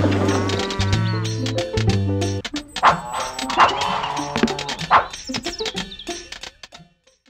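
Cartoon cows on a farm in the 1999 PC game Thomas & Friends The Great Festival Adventure moo repeatedly, several loud drawn-out lows followed by busier animal sounds and effects that fade out.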